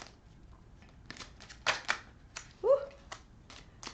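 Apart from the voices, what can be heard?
shuffling a deck of playing cards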